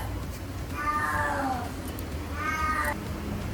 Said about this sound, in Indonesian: ada suara kucing, kebetulan kucing saya minta kawin